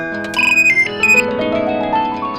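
Melodic phone ringtone for an incoming call in a home kitchen, a short bright electronic tune of ascending and held notes, loud and clear with no talking over it.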